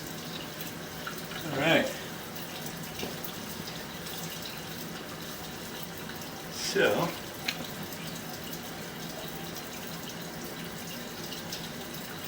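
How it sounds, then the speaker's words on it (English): Water from a kitchen sink tap runs down through a house's drain line, heard as a faint, steady rushing hiss throughout, with a couple of brief spoken words over it. "We're going to run some water in the kitchen sink, so that way we can get some water flowing through here"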